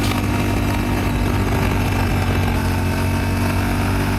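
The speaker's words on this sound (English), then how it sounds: "a taste of that exhaust note." A Yamaha Ténéré 700 motorcycle exhaust drones loudly and steadily on Calaveras Road, a continuous throaty engine rumble with no pauses.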